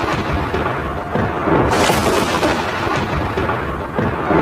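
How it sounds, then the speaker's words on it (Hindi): Deep rolling thunder rumbles continuously, with a sharper crack swelling midway, heavy and close over a steady background of rain. "आसमान में बिजली कड़क रही थी।"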